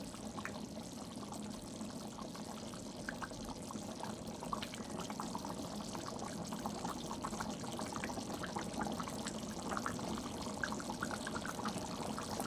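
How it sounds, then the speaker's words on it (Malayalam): Beef curry bubbling steadily in a clay pot, a dense, continuous simmer of small popping bubbles and liquid burbling at close range, with no voices. "എന്തായാലും അത് നല്ലതായിട്ട് തിളയ്ക്കുന്നുണ്ട്."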